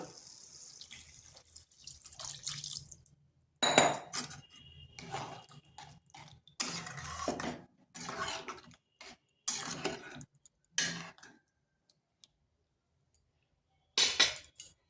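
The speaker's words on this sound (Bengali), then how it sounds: "এখানে দিয়ে দেবো জল।" Water splashes into a cooking pot in several short bursts with quiet pauses between them, close and fairly soft, while a vegetarian kohlrabi dish is made in a home kitchen.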